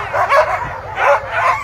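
A sled dog team at the Fur Rondy Open World Championship start, excited dogs yipping and barking in repeated rising bursts, close and loud, with a brown and black lead dog among them.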